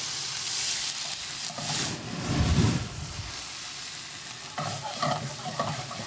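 Mustard and vinegar hit a hot pan with olive oil, sizzling and frying loudly with a stirring swell midway, steady hiss throughout.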